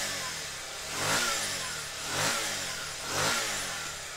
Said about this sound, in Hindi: बाइक स्टार्ट हो चुकी है और स्टार्ट भी नहीं गिर रहा है और एक्सीलेटर देंगे।